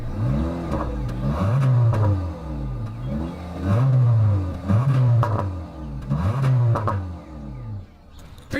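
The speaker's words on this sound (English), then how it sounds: "As always, here is that exhaust clip." Exhaust note of a 2025 Honda Civic, loud and close, revving in several rising and falling pulls with steady idle between, ending on a quieter settle.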